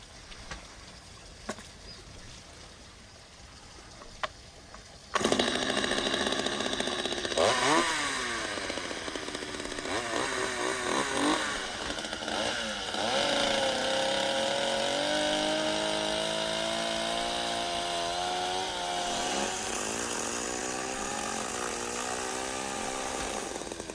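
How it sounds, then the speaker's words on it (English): Hand saw cutting through beef rib bones, a continuous close, loud rasping grind after a few quiet taps, steady strokes running on without pause. "I've decided to use a saw to cut along the ribs smoothly"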